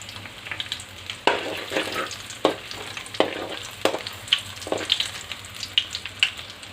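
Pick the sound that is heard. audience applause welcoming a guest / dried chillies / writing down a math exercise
dried chillies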